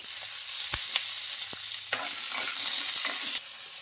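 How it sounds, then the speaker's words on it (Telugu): Peanuts, green chillies and tomato pieces frying in oil, a continuous close sizzle with a few sharp clicks of a utensil against the pan and stirring scrapes. "పల్లీలు కొంచెం వేయించుకున్న తర్వాత వేగిన తర్వాత మిర్చి అలాగే టమాటో ముక్కలు అయితే వేసుకోవాలి కొంచెం ఆయిల్ అయితే వేసుకోవాలి"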